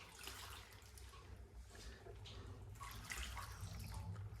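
Water pours steadily into a cooking pot for boiling tapioca in a Kerala kappa recipe, a soft continuous splashing rush that stays fairly faint and even.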